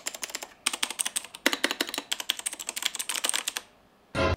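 Rapid clicky keystrokes from a Digital Alliance Meca 8X Plus mechanical keyboard fitted with Outemu blue switches, a steady close burst of typing with a brief pause midway and a final thump.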